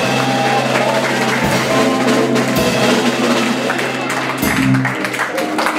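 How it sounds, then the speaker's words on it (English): Applause from a gathered audience at a 100th anniversary celebration at 409 Edgecombe, loud and sustained throughout with music and voices mixed in. "Boyd a round of applause"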